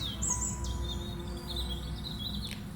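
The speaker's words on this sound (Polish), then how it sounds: "Gdzieś poza kontyną śpiewały radosnym chórem leśne ptaki." Forest birds chirp and trill faintly in the distance, thin high calls coming and going over a steady low outdoor hum, with no voices present.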